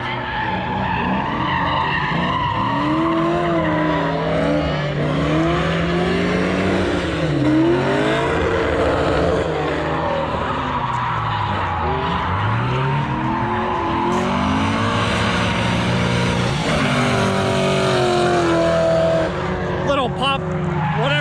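Drift car at Thunderhill revs hard and slides, engine pitch sweeping up and down continuously with tire squeal throughout, recorded close and loud, with a voice talking over it.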